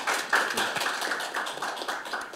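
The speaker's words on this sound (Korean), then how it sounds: "박수로 맞이해 주시기 바랍니다" Audience clapping at a Korean National Assembly policy forum on workplace harassment, dense and steady for a couple of seconds with no voices over it.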